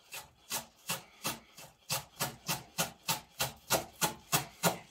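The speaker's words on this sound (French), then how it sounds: "Pour la ciboulette, je vais faire la même chose. Donc, je vais la ciseler très finement." Rapid, even knife strokes finely chop chives on a cutting board, about three crisp taps per second, close and clear with no talking.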